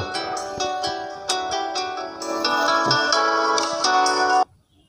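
A phone rings with a bright electronic melody of repeated chiming tones, loud and close, stopping abruptly near the end.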